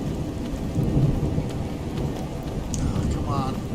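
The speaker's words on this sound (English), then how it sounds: "Good thunder effects." A Skyrim storm pours heavy rain with a rolling low thunder rumble, constant and fairly close, broken only by a couple of brief high game tones near the end.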